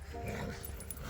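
Dogs play energetically at the end of the day, giving a short burst of yips and whimpery barks close by over rustling movement and background noise, with a voice faintly mixed in.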